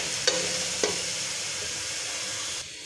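Ginger, garlic and green chili paste fries in a pan with a steady broadband sizzle, broken by two sharp stirring clinks near the start, with no talking.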